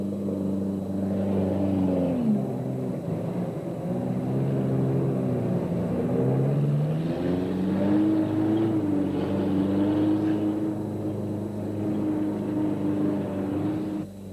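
Small cars fording a stream in Timor-Leste in 1975, heard as a continuous engine drone with rising and falling revs under steady rumbling noise, with no talk.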